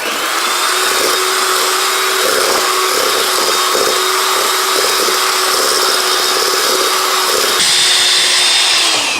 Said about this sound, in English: And you want to beat that until it's light in color and fluffy,